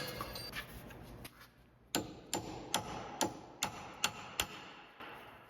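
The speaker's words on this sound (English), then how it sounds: "We'll just use a hammer and a punch." Hammer striking a punch to stake the axle nut on a 2010 Toyota Corolla's front right CV axle, eight sharp metallic blows in a steady rhythm, close and loud, with lighter taps before them.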